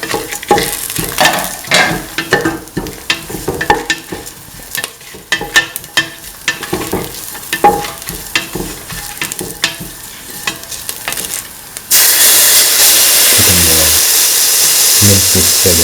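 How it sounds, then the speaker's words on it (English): Garlic is being sautéed in a pan, with a spatula scraping and clicking in a busy, irregular rhythm over the sizzle. About two-thirds of the way through, the sizzle jumps to a loud, steady hiss. "Keep on sauteing garlic."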